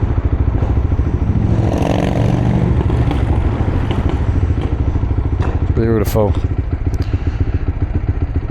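A motorcycle engine revs steadily and loudly, close by, with a continuous throaty drone and a brief rising sweep near the end; someone speaks briefly over it.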